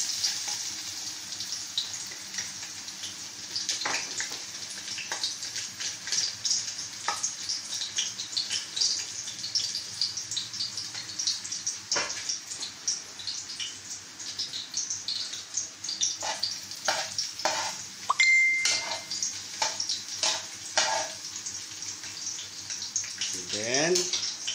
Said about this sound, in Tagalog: Unahin natin ang garlic